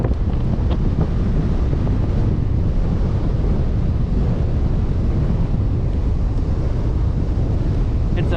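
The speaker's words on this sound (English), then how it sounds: "this wind is picking me up heavy" Strong onshore wind on a Queensland beach buffets the microphone in a loud, continuous low roar lasting the whole clip, with rough gusty texture and no clear voices.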